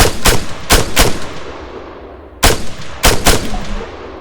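Several sharp gunshots from targets in the video game ARMA 3, two quick bursts of loud close reports with ringing decay, a pause, then another cluster of three shots.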